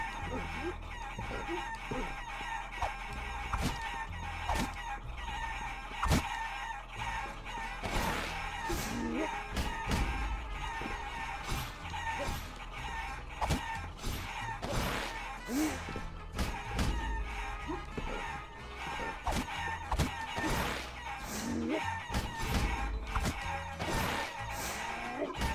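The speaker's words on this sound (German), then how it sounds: "Hier haben wir nämlich die komischen Hühner." Chickens in the video game Guacamelee cluck and crow repeatedly over a dense, loud game soundtrack, with frequent sharp hits and squawks scattered across the whole stretch.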